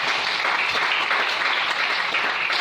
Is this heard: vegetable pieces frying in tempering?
no